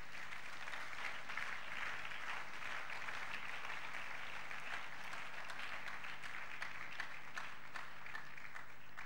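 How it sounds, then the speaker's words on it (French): A church congregation claps and cheers in sustained, dense applause that fills the room evenly and carries on without break. "Nous voulons acclamer très fort."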